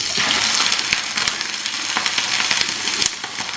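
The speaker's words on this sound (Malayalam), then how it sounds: "മീൻമുട്ടയിൽ വെള്ളത്തിൻ്റെ അംശം ഉള്ളതുകൊണ്ട് ഇത് പൊട്ടിത്തെറിക്കും." Sardine roe frying in hot oil with ginger garlic paste: loud, close, constant sizzling broken by sharp spluttering pops and crackles.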